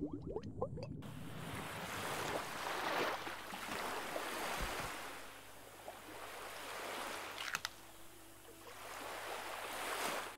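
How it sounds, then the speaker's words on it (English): Water and nature ambience from the game My Brother Rabbit: a continuous soft wash like surf or flowing water, swelling and receding in slow waves, with a faint low hum and a few small knocks, no speech. "The sound of the water and the elements was breathtaking"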